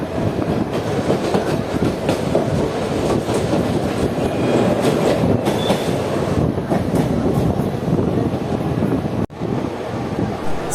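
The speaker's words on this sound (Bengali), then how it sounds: "খুব ধীরে ধীরে দমদম রেল স্টেশন ক্রস করছে আমাদের ট্রেন" The Bhagirathi Express rolls slowly through Dum Dum station on platform 2, with a steady loud rumble and rattle of the carriages lasting throughout, plus wind buffeting close by and a brief dip near the end.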